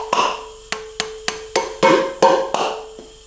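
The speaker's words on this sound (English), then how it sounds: "so you kind of gotta tap them with a hammer, or not a hammer, a mallet, to break them loose" A mallet taps valve spring retainers to break the locks loose during an LS3 valvetrain upgrade on a Chevy Nova build: about nine sharp, close metallic knocks at a steady, slightly quickening pace, with no talk.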